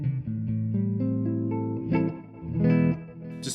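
An electric guitar through a Mesa Boogie Dual Rectifier Tremoverb amplifier rings out sustained notes and chords, washed in echoing delay and spacious reverb, with repeats trailing off behind each phrase.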